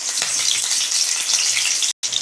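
Chopped chillies dropped into hot oil sizzle with a loud, dense, steady hiss, faint stirring bumps underneath and a momentary cutout near the end.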